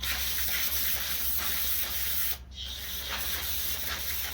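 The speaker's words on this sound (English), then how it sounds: "We got some brake clean." Brake cleaner is sprayed onto a rough, rusty old Craftsman chipper around its filter: a steady, close aerosol hiss runs almost the whole time with a brief dip partway through.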